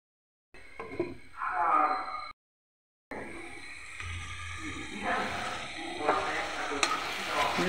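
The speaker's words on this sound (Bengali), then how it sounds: "ভালো করে আমি কষিয়ে নেব।" Spice paste for egg curry being sautéed and stirred in a pan: soft sizzling with scraping stir strokes in short bursts, broken by a brief silent gap, near and moderately quiet.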